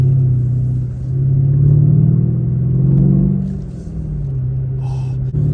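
A 2016 Mercedes-Benz S550 coupe's twin-turbo V8 sends out a deep, steady rumble that rises and dips gently, with a low-pitched drone close by.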